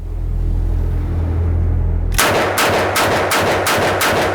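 A Smith & Wesson 327 TRR8 Performance Center revolver firing .357 Magnum at an outdoor range: after a low wind rumble, about seven loud, sharp shots ring out in quick succession, close to the listener.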